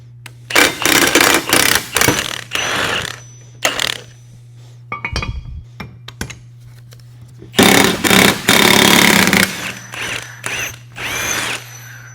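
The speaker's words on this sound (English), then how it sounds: "we're gonna press the new ones back in" New ball joints being pressed into a Dana 60 steering knuckle on a 2005-or-later truck, heard as loud, close bursts of ratcheting, clanking metal, with quiet gaps and a steady low hum running beneath.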